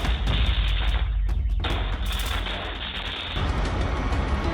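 Fireworks set off in a firebombing of a shop tied to the illegal tobacco trade in Australia, a dense run of loud booming bangs and crackling bursts that barely lets up for several seconds, with one brief lull midway.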